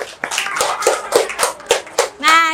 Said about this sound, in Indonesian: Tepuk tangan untuk Fikri.